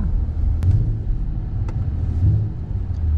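Steady low rumble of a Mercedes E53 AMG driving, a continuous engine and road drone with no sharp revving, heard from inside or close by.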